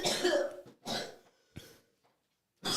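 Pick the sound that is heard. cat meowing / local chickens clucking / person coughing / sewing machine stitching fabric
person coughing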